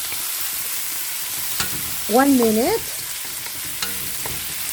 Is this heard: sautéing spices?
yes